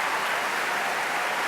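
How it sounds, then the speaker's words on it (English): A large Proms audience cheers and applauds as two knighted musicians come onto the stage to bid farewell to the Hallé, a dense, steady wash of clapping and cheering filling the hall without pause. "Listen to that cheer."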